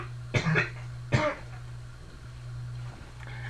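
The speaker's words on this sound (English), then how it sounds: "Wait a minute, I got a cough." Two short, sharp coughs close to the microphone in quick succession, over a steady low electrical hum, followed by quiet.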